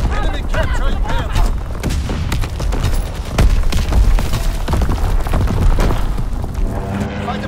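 An artillery battery firing in Call of Duty: WWII, with dense, continuous booms and crackling volleys over a loud battle din, while game voices talk over the barrage.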